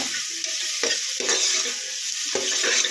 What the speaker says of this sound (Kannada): ಈಗ ಇದನ್ನು ಫ್ರೈ ಮಾಡ್ಕೊಳ್ಳೋಣ.